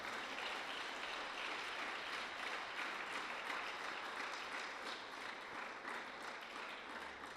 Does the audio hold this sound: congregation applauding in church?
yes